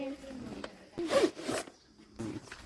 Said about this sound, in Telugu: జిప్పు తీయాలి